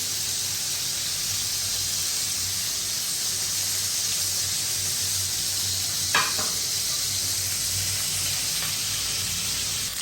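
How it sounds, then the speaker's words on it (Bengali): Sea fish frying in oil: a steady, hissing sizzle runs throughout, close and even, with a single faint clink partway through. "লাল লাল করে ভাজছি"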